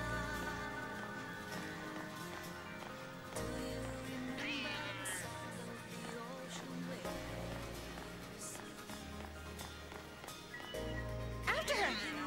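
A cat meows in Final Fantasy XIII-2 gameplay, faint short calls layered over continuous game music and ambience.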